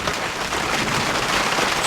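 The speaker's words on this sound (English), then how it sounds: "raining pretty hard right now." Heavy rain drums steadily and loudly on a canvas top during a turkey hunt, a dense, unbroken hiss and patter with no voices.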